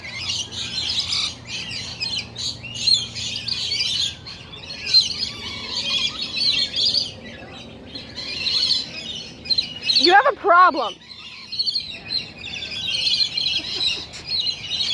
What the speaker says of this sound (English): This is my pet bird.